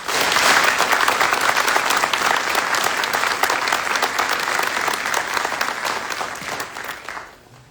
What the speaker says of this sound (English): Please join me in a round of applause for their hard work and dedication.